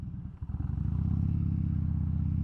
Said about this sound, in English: I'm on the Harley-Davidson Dyna Fat Bob